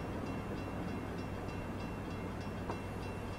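An NS Bi-Level cab car train in Train Simulator 2015, on the Aurora to Chicago line, pulls into a platform with a steady, even rumble of rails and wheels. There is no speech.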